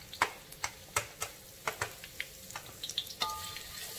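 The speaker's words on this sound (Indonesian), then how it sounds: "kita langsung aja tumis bawang merah, bawang putih, cabe sama bawang merah yang diiris juga" Sliced shallots, garlic and chili sautéed in a pan for a lemongrass sambal clam dish, with a soft sizzle under a run of sharp spatula taps and scrapes, close and without voices.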